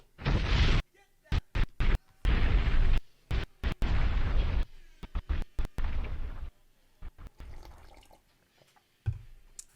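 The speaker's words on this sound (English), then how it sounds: "Dynamite! Dynamite! Explosions, fires." Loud, booming explosions go off in a rapid series of heavy bursts with short gaps, then fade to scattered crackles before one last blast.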